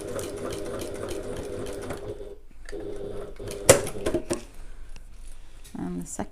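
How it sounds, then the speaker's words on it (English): A sewing machine basting fabric on a long stitch length a quarter inch from the edge, running in a steady whirring hum, stopping briefly with a clack of handling, then resuming more quietly while someone talks over it. "let's baste these into place then, exactly the same as we did before, on a long stitch length and 1/4 inch from the fabric"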